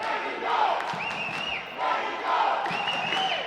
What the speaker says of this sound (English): Crowd yelling Vertigo.